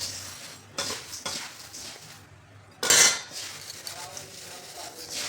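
A spice mixture is stirred in a metal pot, with a spoon scraping and clinking against the sides in several bursts, one louder clatter midway, and faint voices in the background.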